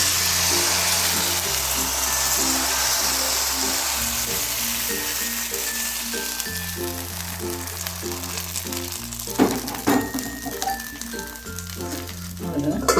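Appam batter cooks on a lightly oiled non-stick pan with a steady hiss and sizzle, under background music with a repeating beat, and a few clinks and scrapes toward the end.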